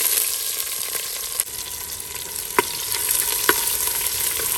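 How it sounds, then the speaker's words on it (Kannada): Chopped onion sizzles steadily in hot oil with mustard seeds, curry leaves and crushed garlic for a Mangalore-style kadle tondekai sukka, a continuous close hiss broken by a few sharp pops and stirring clicks. "1 ಈರುಳ್ಳಿನ ಹಾಕ್ತಾ ಇದ್ದೀನಿ."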